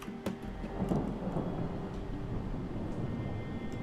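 Thunderstorm in the video game Project Zomboid: a low, rolling rumble of thunder swells early and then lingers as a steady, broad roar, heard alone with no talk.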